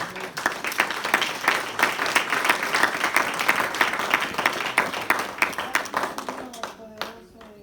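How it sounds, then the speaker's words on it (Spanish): A church congregation claps enthusiastically in a dense, rhythmic wash of applause, with voices rising near the end as it tapers off. "Denle un aplauso al Señor."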